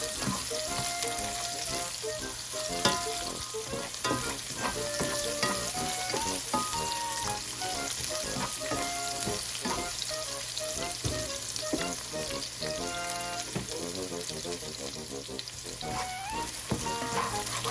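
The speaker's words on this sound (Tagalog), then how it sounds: "the garlic and onion is cooked" Garlic and onion sizzle steadily in a pan, a continuous close frying hiss with light stirring clatter, while music plays throughout.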